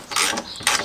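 A ratchet undoing a 13mm nut on a Peugeot, two short bursts of rapid clicking pawl, close and clear, no talk.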